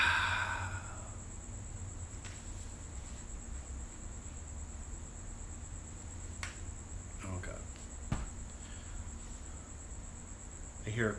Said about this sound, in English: I hear a cricket outside.